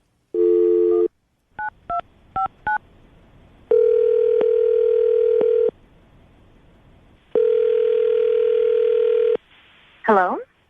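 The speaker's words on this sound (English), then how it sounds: "I'm going to dial the phone number right now" Touch-tone dialing beeps in a quick series, followed by two long ringback tones with pauses, then a brief voice at the end.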